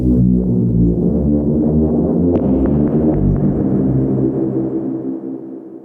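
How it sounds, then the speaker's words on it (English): Loop resampled on an SP-404MKII sampler with reverb added, heard as a dense, sustained throbbing hum with a few soft plucked accents in the middle, steady and loud before gently fading at the end. "we could put some reverb on it"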